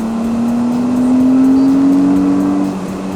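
A 2018 Porsche Cayenne E-Hybrid accelerating hard in Sport Response mode, combining electric motor and engine, its tone rising steadily over about two and a half seconds before easing off, loud and close with no talk.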